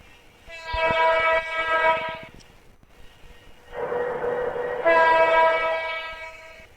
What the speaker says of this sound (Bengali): কিছু করে একটু হর্ন দিই